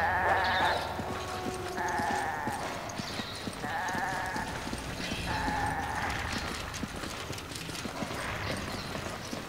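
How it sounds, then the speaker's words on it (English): Goat in the Resident Evil 5 game bleating repeatedly in several drawn-out calls, with clopping hoof-like steps and other game sounds around them. "You're just a poor, sickly-looking goat."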